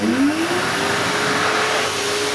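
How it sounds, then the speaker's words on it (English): A sensor-activated electric hand dryer blows air in a loud, steady hiss with a whining tone that rises as it spins up, then holds level close by. "when we put our hands underneath, the hand dryer will turn on without us even having to press a button"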